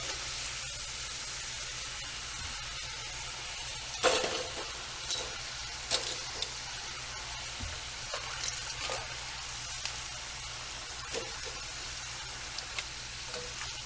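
Homemade French fries sizzle in oil in a cast iron skillet, a steady faint hiss broken by occasional sharp clinks and scrapes of tongs against the pan.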